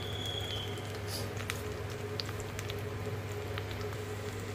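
Mustard seeds and cumin sizzling in hot oil for tempering pappu gongura, a steady soft crackle and patter with scattered tiny pops, fairly quiet and continuous, with no talking.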